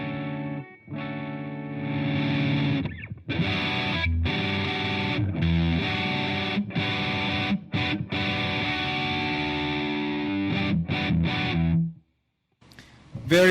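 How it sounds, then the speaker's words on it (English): Electric guitar chords played through a distortion pedal, a thick, sustained buzzing tone struck repeatedly with short breaks between chords, loud and close, ending in a brief silence before a final strum. "you put distortion on it and you can still identify the chord"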